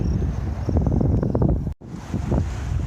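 Steady wind buffets the microphone outdoors on a road trip through New Mexico, a loud continuous roar with gusting swells and a brief dropout, no speech.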